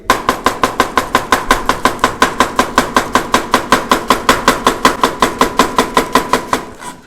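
A knife shredding a vegetable on a cutting surface at a table, a steady run of about thirty sharp, evenly spaced chopping strikes, loud and close with no voices.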